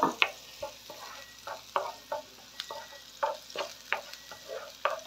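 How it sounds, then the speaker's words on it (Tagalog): Red and white onion sautéing with softened garlic in a pan, with quiet frying under a steady run of soft scraping stir strokes, close and fairly faint, no voices. "Pag yan po naman ay nalanta na rin yung ating bawang yan, pwede na ilagay ang ating sibuyas."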